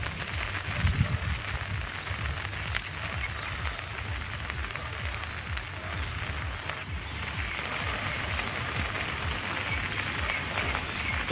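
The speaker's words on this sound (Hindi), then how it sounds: "गोचर में बारिश नहीं थम रही।" Steady rain falls in Gauchar, Chamoli, in Uttarakhand during a cold, wet spell. It makes a constant broadband hiss with faint pattering drops throughout and no speech.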